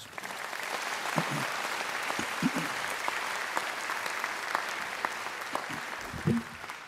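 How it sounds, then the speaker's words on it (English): A university graduation ceremony crowd gives a sustained round of applause in a large hall, an even wash of clapping heard at a moderate distance with a few sharper claps and brief murmurs near the end. "I think we should give Professor Doughton another round of applause."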